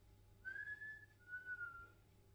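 A person whistles in imitation of a whistle once heard in a hallway at night, two clear sustained tones one after another, close and fairly soft, with no talking.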